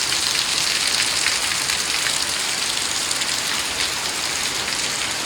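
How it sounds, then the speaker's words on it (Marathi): Steady, dense heavy rain pouring down throughout, a constant loud hiss of drops hitting the ground with no voices. "भारी पाऊस लागतंय बघा."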